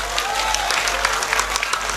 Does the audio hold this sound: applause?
yes